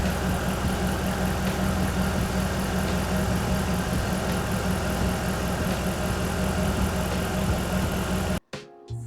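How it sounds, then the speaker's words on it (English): A 5.7 HEMI V8 in a Dodge Durango with 370,000 km idles smoothly and steadily, a close, even rumble that cuts off abruptly near the end. "I started the engine"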